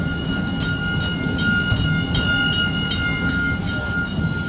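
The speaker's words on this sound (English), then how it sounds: "this is my second favorite train ride of all time" Legoland Malaysia theme park train ride rumbling steadily with a constant low mechanical drone and faint periodic clicks from the wheels, heard from on board, close and continuous.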